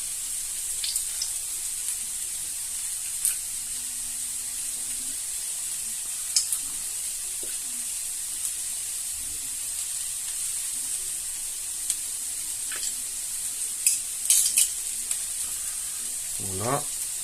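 Leeks and cream sizzle in a pan with a steady high frying hiss, punctuated by occasional soft clicks and scrapes of stirring, close and even, with a brief voice near the end.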